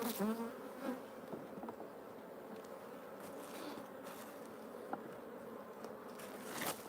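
Honey bees buzzing steadily during a midsummer hive inspection in Australia, a soft, constant hum of many insects close by with occasional brief louder passes and light handling sounds.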